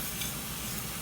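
Sesame seeds roast in a hot pan, giving a steady, faint crackling hiss with no voices over it.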